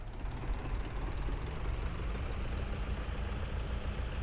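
A Fiat tractor engine in Farming Simulator 22 runs at a steady low drone, a continuous rumbling chug with no talk over it.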